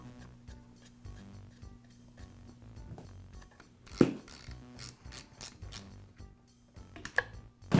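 A filler plug being screwed back into the gearbox of a Skil Skilsaw circular saw during repair, with faint ratcheting clicks, small metallic taps and a couple of sharper knocks close by.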